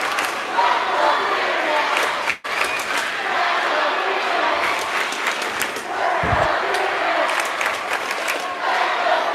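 A home crowd at a high school basketball game in Spearman, a whiteout night, roars with sustained cheering and shouting, dense and loud throughout, with a brief dropout and a low thump partway through.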